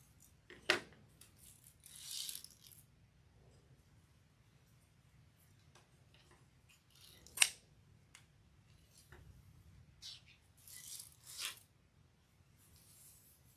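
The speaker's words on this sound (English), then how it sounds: "let's keep trimming these" Scissors trimming materials for a lemon and sunflower grapevine wreath, faint scattered snips and rustles with a few sharper clicks, quiet and intermittent over a low hum.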